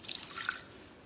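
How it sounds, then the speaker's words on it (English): Water trickles and drips into a bowl of gluten-free Christmas pudding mixture, a short, soft, splashy pour nearby with no talking. "Add water."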